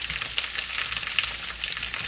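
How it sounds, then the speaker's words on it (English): Onions and garlic sauté in a pan for a corn stew, a close, steady sizzle and crackle of frying with small popping bursts and faint stirring, alone without talk. "So we're sauteing the onions and garlic for the stew, the corn stew"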